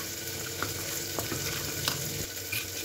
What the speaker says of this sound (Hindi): आधा चम्मच धनिया पाउडर और आधा चम्मच गरम मसाला। इसको अच्छे से मिक्स कर लेना है।